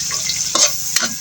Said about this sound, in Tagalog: Kayon. O kayon. Ibig sabihin, halo-haluin.